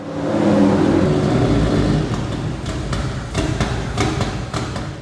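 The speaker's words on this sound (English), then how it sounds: "The reason for this awful noise is the starter motor." A Ford Sierra with a 2JZ swap makes a loud grinding, churning racket from a faulty starter motor, followed by a rougher stretch of sharp metallic clacks and knocks.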